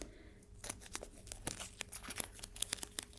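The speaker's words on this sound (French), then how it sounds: "je peux le déchirer comme ça" Decorative tape is torn by hand, a close crisp ripping and crinkling with sharp little snaps, soft and intimate against a quiet background.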